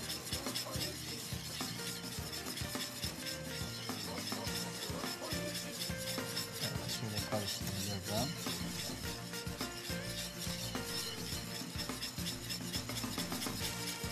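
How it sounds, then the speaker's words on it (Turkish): A spoon stirs a thickening starch mixture for a jellied fruit pudding in a pot, a continuous scraping and rubbing with steady rhythm, close and fairly loud, with no talk. "iyice karıştırıyoruz, karıştırıyoruz, karıştırıyoruz ve karıştırıyoruz"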